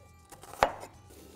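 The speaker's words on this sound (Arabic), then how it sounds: "ونبتدي نقطع الكلام ده جولينات، وعايزه ناعم شوية، جولين ناعم" A single crisp knife chop on a cutting board lands in a quiet kitchen, part of cutting an onion into fine julienne strips.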